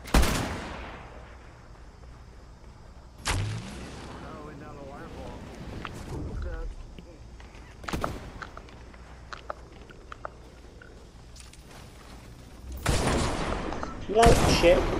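Sharp bursts of gunfire ring out in a Fortnite match, several loud separate volleys spread across the stretch, with players talking excitedly between and over the shots.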